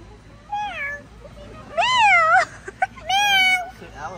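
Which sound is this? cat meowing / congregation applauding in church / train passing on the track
cat meowing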